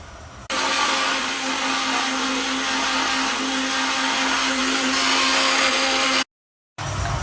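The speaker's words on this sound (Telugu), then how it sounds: "ఇప్పుడు మనం మిక్సీ పెట్టుకుందామండి" A kitchen mixer grinder whirring loudly and steadily with ingredients and water in its jar, starting abruptly, running about six seconds, cutting off briefly, then restarting.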